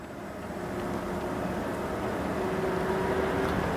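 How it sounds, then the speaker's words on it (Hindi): A helicopter lifts off near the Vaishno Devi shrine in the mountains, a steady, dense rotor and turbine roar that builds gradually and holds loud throughout, heard from fairly close with no talking. "ये देखिए हेलीकॉप्टर उड़ गया अभी, देखिए अभी चला।"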